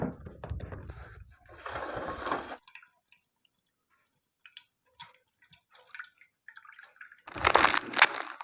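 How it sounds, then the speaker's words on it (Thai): Water from a freshly split coconut is poured out for a homemade cytokinin mix. It comes as a loud splashing gush at the start and again at the end, with faint drips and small clicks in the quieter middle. "เรา ผ่ามะพร้าว เอาน้ำมะพร้าวเลยนะครับ"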